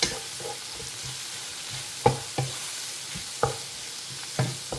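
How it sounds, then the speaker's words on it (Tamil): Cloves, cinnamon, bay leaf and green chillies sauté in a hot pan, giving a steady close sizzle broken by a few sharp spoon clacks and scrapes against the metal. "இதையும் போட்டு இதை வதக்கிக்கணும்."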